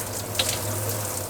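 Cold water runs steadily from a tap, a continuous close hiss and splash with no voices.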